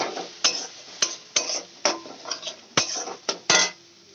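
Ginger garlic paste is sautéed in a pan with a spoon for a wedding-style katla fish kalia, giving a sharp run of about ten close metal scrapes and clinks over a soft sizzle, with no voices.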